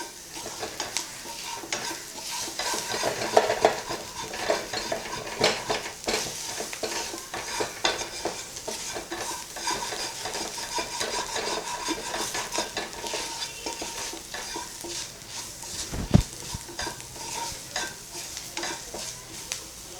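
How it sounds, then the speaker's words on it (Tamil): Onion masala sautéing on a low flame for a mutton brain fry, a continuous crackling sizzle under constant stirring and scraping, close and fairly loud, with one dull knock near the end. "அடி பிடிக்கும் இது, அதனால் கொஞ்சம் அடுப்பை சிம்மில் வச்சுட்டு நல்லா வதக்கிடலாம்."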